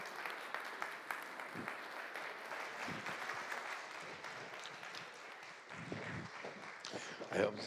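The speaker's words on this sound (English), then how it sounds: "Big round of applause" An audience gives a long, steady round of applause as a lifetime achievement honoree for route development comes on stage, distant and fairly quiet with voices mixed in.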